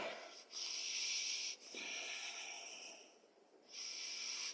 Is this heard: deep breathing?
yes